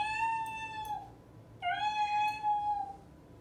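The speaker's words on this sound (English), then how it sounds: "What sound does a kitten make?" A kitten gives two clear, drawn-out meows, one after the other with a short pause between, close and distinct against a quiet background.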